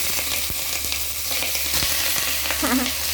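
Food sizzles steadily in a hot frying pan (kawali) while cooking adobo, a constant loud crackling hiss with a few sharp pops and brief stirring clatter.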